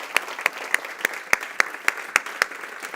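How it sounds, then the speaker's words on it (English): An audience at a bioeconomy festival opening claps in unison on cue, about ten sharp, evenly spaced hand claps at a steady beat over faint room noise. "Now clap."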